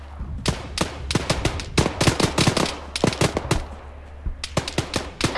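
Rapid bursts of automatic rifle fire in Arma 3, loud and close, cracking in clustered volleys with short gaps between them and no talking.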